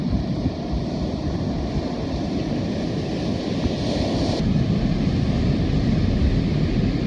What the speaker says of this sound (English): Those waves are brutal out there.